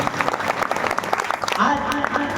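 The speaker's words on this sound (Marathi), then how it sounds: "दोनही संतांसाठी दोऱ्या टाळी वाजवा महाराज" Audience applause at a devotional bharud performance, a burst of dense clapping from a crowd, with voices mixed in underneath.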